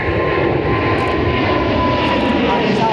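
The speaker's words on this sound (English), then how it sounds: "So this next plane is going to Mumbai," A fixed-wing jet airliner bound for Mumbai roars past at Heathrow airport, a loud, steady, close engine drone filling the whole stretch.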